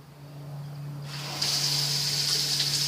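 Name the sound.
hot water tap running and sputtering air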